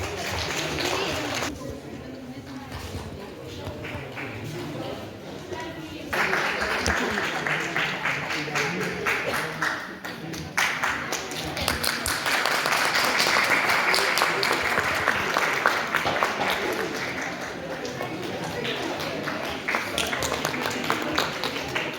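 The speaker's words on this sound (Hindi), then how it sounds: "कृपया तालियों के साथ स्वागत करें।" An audience at a National Voters' Day ceremony applauds as an honoree is welcomed on stage, sustained crowd clapping building and lasting many seconds, with voices talking over it.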